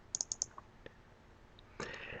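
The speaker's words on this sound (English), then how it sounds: "once you found it, double click on it" A computer mouse double-clicks, then clicks twice more in quick succession, crisp and close, followed by a single faint click and a soft rustle of desk noise.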